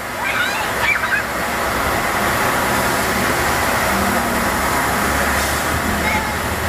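A coin-operated wall fountain in Lexington throws a constant loud rush of splashing, cascading water, with road traffic mixed in and people talking over it now and then.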